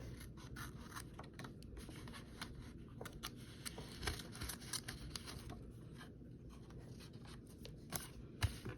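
Scissors snip through paper for a junk journal in a quiet series of close, crisp cuts with soft rustling and scraping between them, no voices.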